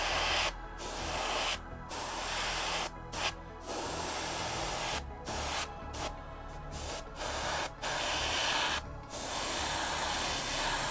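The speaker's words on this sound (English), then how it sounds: "Let's go ahead and start spraying." An airbrush sprays paint onto a Mephiston miniature in a steady, close hiss, broken by several short pauses as the trigger is released and pressed again.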